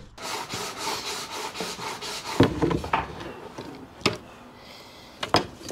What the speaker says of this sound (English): I can fit the jigsaw in and then I can cut it out